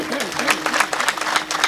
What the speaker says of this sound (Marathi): त्यांच्यासाठी सुंदर अशा टाळ्या वाजवा.